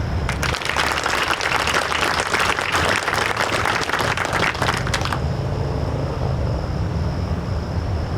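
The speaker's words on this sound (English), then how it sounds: "Another round of applause, please" An audience at the Fort Sill MEDDAC change of command ceremony applauds after the national anthem. Dense clapping runs for about five seconds, then cuts off sharply, leaving a low, steady background hum.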